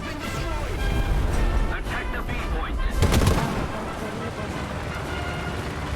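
Rapid bursts of gunfire and loud booms from the tank game War Thunder clash continuously, with a sharp cluster of shots midway, dense and loud throughout.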